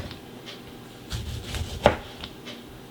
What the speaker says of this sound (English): And now it's ready for slicing.